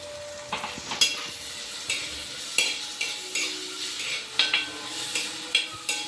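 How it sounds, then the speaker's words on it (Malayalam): Small chopped tomatoes fry in a pan for a Kerala-style chicken curry, a low steady sizzle under a regular rhythm of spoon scrapes and taps as they are stirred. No one speaks. "ഇതിലേക്ക് 2 ചെറിയ തക്കാളി നുറുക്കിയത് ഇടുവാണ്"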